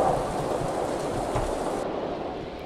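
Dense rainfall hisses steadily in a Stardew Valley thunderstorm, with deep rolling rumbles beneath, loud and close before the high wash thins out near the end.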